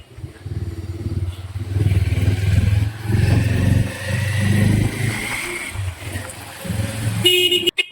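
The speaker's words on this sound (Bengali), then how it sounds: "বাইকের একটা ইঞ্জিনের আওয়াজ না থাকলে মজা নেই, ফিল হয় না যে একটা গাড়িতে যাচ্ছি" A motorcycle engine drones steadily and loudly up close during a ride through traffic, with horns from other vehicles honking now and then over the engine noise.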